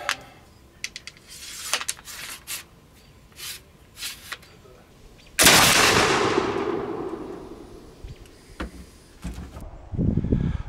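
A flintlock smoothbore musket loaded with a round ball fires one loud, booming shot with a long rolling decay, preceded by metallic clicks and handling noises and followed by more clatter.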